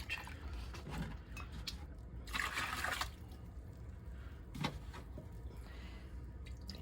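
Water is poured into a rock tumbler barrel to rinse out grit after soap is added: one short splashing pour midway, with a faint later trickle over quiet room noise.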